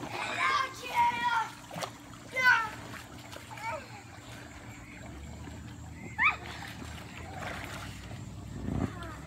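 Children swimming and splashing in water, with steady splashing and watery movement throughout, mixed with children's voices and an adult talking over the scene.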